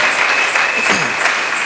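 A church congregation applauds together, a dense, even clapping that stays loud and steady throughout.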